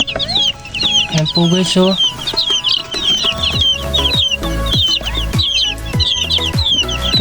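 Flock of 45-day-old chickens clucking and chirping continuously, close and busy, while someone talks over them.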